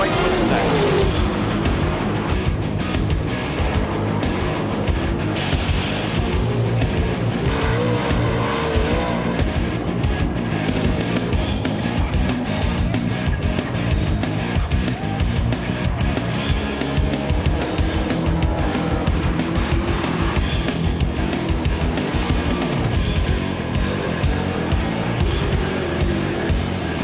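Sprint cars in a World of Outlaws race roar around the dirt track at Texas Motor Speedway, engines loud and continuous with tire squeal and skidding throughout, overlaid by announcer speech.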